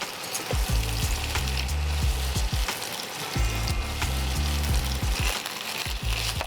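Garlic and ginger paste fries in oil in a pan with a steady loud sizzle, while a utensil knocks and scrapes against the metal in repeated stirring strokes.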